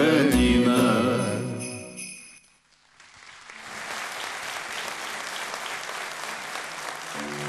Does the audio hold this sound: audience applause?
yes